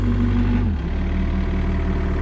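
An excavator engine idles after revving by itself, a deep throbbing rumble whose pitch drops and settles early on into a steady, close, loud idle.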